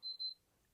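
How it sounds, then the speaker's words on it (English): Safe fingerprint reader emitting two quick, high-pitched electronic beeps back to back, faint and close, followed by near silence. "And once it's done, it beeps twice at you"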